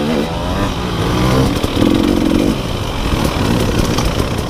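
An enduro dirt bike heads downhill over rocks during a hard enduro pro race, its engine loud and close with a constantly shifting, uneven drone of throttle changes for a few seconds, and no talking.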